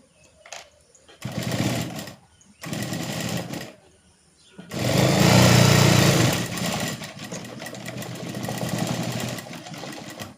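A sewing machine stitches baby half pants in bursts: a short run, two longer runs with pauses between, then a sustained louder stretch of rapid whirring needle strokes.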